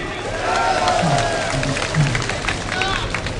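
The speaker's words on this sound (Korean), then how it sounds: "여러분 박수 한번 주십시오." Crowd applause and cheering at a lecture by a former defense minister, a dense mass of clapping mixed with audience voices and hubbub, steady and fairly loud throughout.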